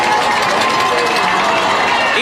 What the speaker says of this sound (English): the crowd cheering as well